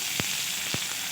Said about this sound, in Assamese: পিঁয়াজ, নহৰু আৰু জালুক, গোটা জালুক দিছোঁ।